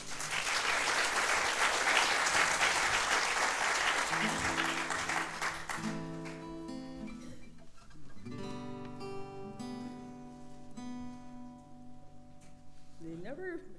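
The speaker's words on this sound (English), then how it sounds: "Give her a round of applause." Loud, dense applause from a variety show audience for a woman who has just sung, filling the first six seconds, then thinning as an instrument is tuned with sustained tones over scattered clapping.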